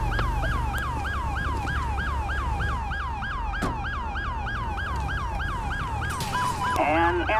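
Ambulance siren in the video game GTA 5 with the LSPDFR mod, a loud wailing two-tone cycle repeating steadily over engine rumble, with a brief shift to a faster yelp near the end.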